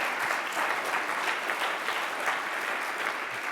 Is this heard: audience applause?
yes